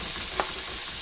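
Ingredients tipped into a pan of softening onions for chilli chicken, sizzling and frying in a steady hiss with a soft stir, close and continuous.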